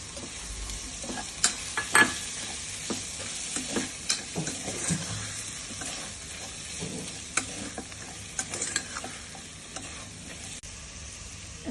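Boiled prawns tossed into a hot pan for Andhra-style prawn biryani, with a soft steady sizzle and frequent scraping stirs and clinks, quiet and close, no voices.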